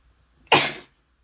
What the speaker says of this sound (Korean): 기침이 좀 나네요.